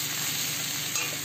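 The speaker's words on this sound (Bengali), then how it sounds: "এখন আমি এই চিংড়ি মাছটা দিয়ে গাঠির ঝোলটা রান্না করবো।" Shrimp and taro curry cooking in a pan gives a brief, steady close sizzle with faint stirring, with no voices.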